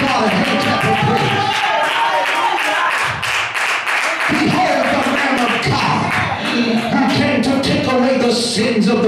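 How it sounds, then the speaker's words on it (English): Congregation clapping in praise during a church sermon, a dense, steady patter of many hands that runs loud throughout with crowd noise and voices mixed in. "Somebody give God a hand clap of praise"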